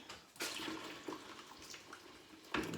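Water poured from a kettle, a steady splashing stream that starts abruptly and runs for a couple of seconds before a second gush near the end, close and fairly quiet.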